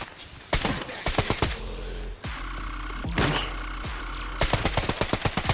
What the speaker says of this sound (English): I'm shooting at the barn. It's way long distance.